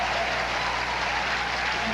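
Spectators applauding at a professional women's doubles tennis exhibition in Philadelphia, a dense steady clapping that fills the whole moment without a break.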